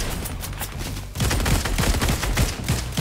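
Rapid bursts of automatic gunfire in a Fortnite Chapter 4 match, loud and close, with dense repeated shots running throughout and intensifying partway through, no talking.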